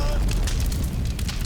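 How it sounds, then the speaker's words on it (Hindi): Bomb blast inside a market in a Hindi crime TV drama, a loud, sustained low rumble with bursts of crackling debris across the whole moment. "धमाके की आवाज"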